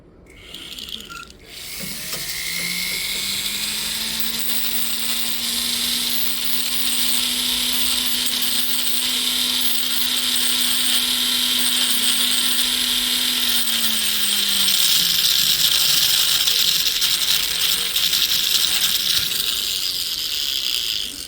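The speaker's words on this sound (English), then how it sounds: "let's go ahead and switch back to our grinder here for a second" A small power grinder runs steadily against a metal ring, a loud continuous whine with a sustained tone that rises in pitch at the start, holds, and drops near the end, with no voices.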